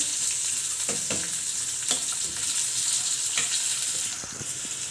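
Sliced okra stir-fries in a pan for a simple Kerala-style upperi, a steady bright sizzle with a few soft scraping stirs, close and continuous with no talking.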